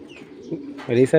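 Low, soft coos from a large pigeon close by, followed by a louder burst of voice near the end.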